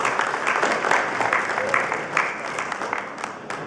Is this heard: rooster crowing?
no